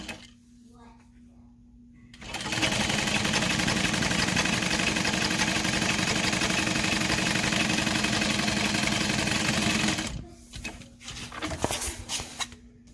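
A sewing machine stitching a straight seam on a Phoebe backpack runs in one loud, steady whirring burst of about eight seconds. Quieter handling noises come before and after it.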